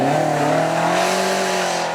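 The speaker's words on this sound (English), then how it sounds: "Throaty noise coming in from that naturally aspirated 4-pot." A naturally aspirated four-cylinder car engine at a supercar event gives a loud, throaty drone that rises and holds steady through a sustained pull, with no speech over it.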